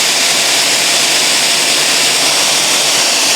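A Silvercrest SMS 300 C3 handheld anti-dust-mite vacuum cleaner runs loud and steady, a constant broadband roaring whoosh with no change in pitch or level.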